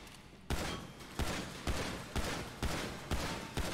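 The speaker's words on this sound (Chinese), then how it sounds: "开枪速率会比较快" Rapid gunfire from the video game GTA 5, about seven loud sharp shots in an evenly spaced burst, each with a short decaying tail.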